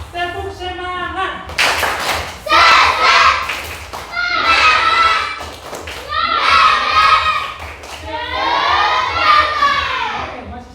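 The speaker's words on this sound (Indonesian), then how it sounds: "Tepuk semangat dulu ya." Fourth-grade schoolchildren in a classroom perform a rhythmic spirit clap, bursts of unison clapping mixed with loud chanting young voices in several short phrases.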